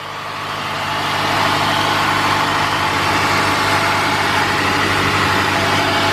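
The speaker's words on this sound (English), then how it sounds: "because the car is idling high" A Honda Accord with an EGR insufficient-flow fault idles high, a steady loud engine drone with a constant low hum that builds slightly over the first second and then holds even.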